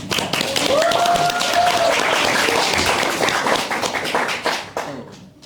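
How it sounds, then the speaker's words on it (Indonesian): Loud, sustained applause from a school crowd greeting a new headmaster, dense clapping filling the scene for about five seconds before thinning out at the end, with a few voices mixed in. "Tepuk tangan dulu dong."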